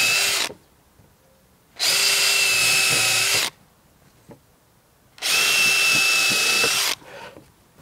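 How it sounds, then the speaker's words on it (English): A power drill with a countersink bit whirs loudly in two bursts of about two seconds each, biting into wood, with quiet pauses between. "just go ahead with your countersink drill bit and drill where you made those dots"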